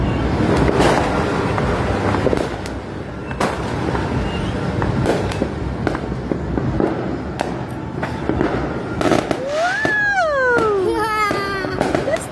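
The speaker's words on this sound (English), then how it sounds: "It's the best fireworks in the world." New Year fireworks in the Philippines, a dense run of loud close bangs and crackling bursts one after another, with a crying child's wails rising near the end.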